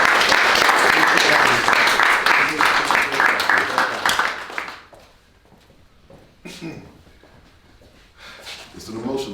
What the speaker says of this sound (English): Mr. Glenn Morgan, round of applause.